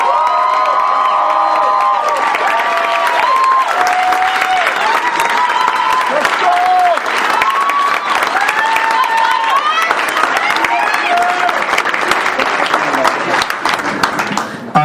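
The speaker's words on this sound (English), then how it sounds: "please, a big round of applause for this year's National Championship Final" A large crowd at the 2012 Potter Cup men's college squash national championship final bursts into loud, continuous applause, with cheers, whistles and shrill shouts layered over dense clapping throughout.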